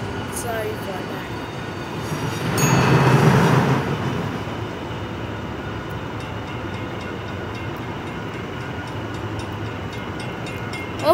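A train in the Rails Unlimited game rumbles steadily throughout, swelling louder for a couple of seconds early on before settling into a continuous low drone.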